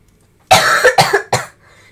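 Painful-sounding coughing in two to three sharp bursts, close and loud, with a short pause between them and quiet before and after.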